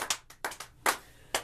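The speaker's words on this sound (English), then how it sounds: "a round of applause for Dr. Copper" A few people clap sparsely and unevenly, about six separate claps in a quiet, close room.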